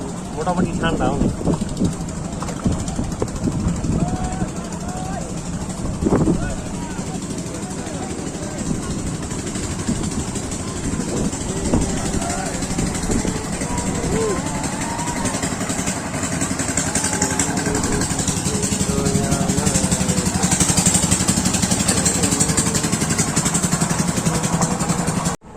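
The motorboat engine on Tanguar Haor drones steadily throughout, a close, continuous low rumble that swells slightly toward the end, with people talking over it.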